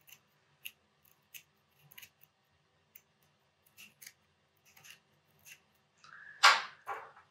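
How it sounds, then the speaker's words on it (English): Scissors make a series of small, crisp snips while cutting through the webbing of a sandal strap. They are spaced at irregular intervals, quiet and close, and end in a louder, longer rasping cut. "So I also have to cut this back side of the webbing."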